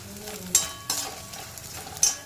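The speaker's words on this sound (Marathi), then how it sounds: "डिंक चांगला फुलेपर्यंत तळायचा" Edible gum (dink) fries in oil in a pan. A soft background sizzle runs under a few sharp scraping strokes of a spoon against the pan, spaced irregularly.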